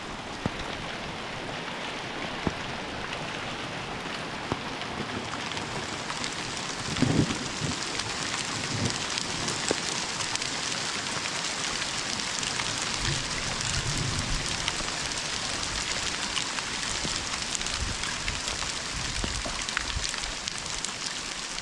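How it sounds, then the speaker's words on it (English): Heavy rain mixed with pea-size hail pours down outdoors in a dense, steady hiss, with scattered sharp ticks of stones striking surfaces and a brief louder burst partway through. "Now it's upgraded to pea-size hail."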